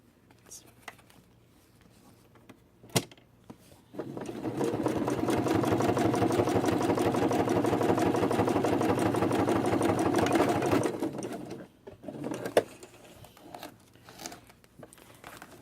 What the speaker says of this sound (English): I back stitch at the beginning and the end just to make sure it doesn't come unraveled when I'm stuffing it.